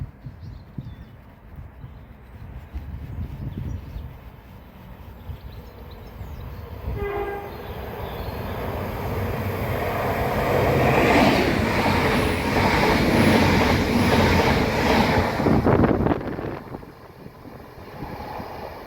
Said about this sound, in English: now on the approach through platform 1 at Crossgates will be the 802 TransPennine to